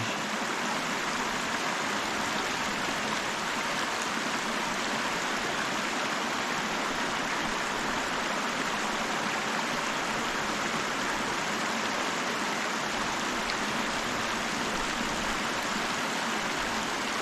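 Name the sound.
creek water flowing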